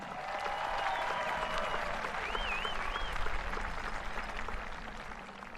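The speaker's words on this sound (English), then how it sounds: "So let's give them a loud round of applause as well." Outdoor crowd at a Ventura High School commencement applauding retiring staff: steady, moderately loud clapping from many people, with a faint whistle and some cheering mixed in.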